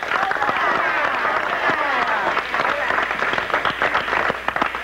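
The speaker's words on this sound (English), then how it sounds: "Give him some applause." A crowd applauding a senator's arrival, steady clapping mixed with voices and cheering that stays lively throughout.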